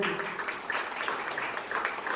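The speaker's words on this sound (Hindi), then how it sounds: "जोरदार तालियों से" Steady applause from an audience at a school farewell and honouring ceremony, a dense even patter of clapping that holds at a constant moderate level throughout without a break.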